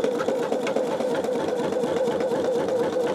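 An embroidery machine runs a placement stitch on stabilizer for a greeting card, a steady close buzzing hum with rapid needle pulses continuing evenly throughout.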